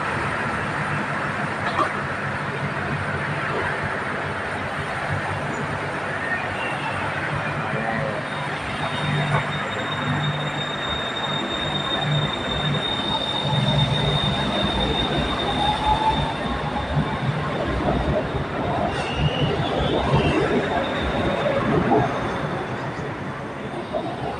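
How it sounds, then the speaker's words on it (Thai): A BTS Skytrain Silom Line EMU-A1 train rumbles through Bangkok's Saphan station with a steady mechanical roar, metallic wheel squeal and faint hiss throughout, fairly loud and continuous. "สวยงามเลยขบวนรถไฟฟ้า BTS สายสีลมครับ"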